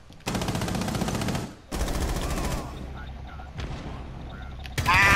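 Automatic gunfire bursts in a tactical shooter match of Rainbow Six, loud sustained volleys broken by short gaps, with quieter background game sounds and a faint voice in the mix.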